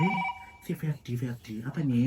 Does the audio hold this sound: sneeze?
no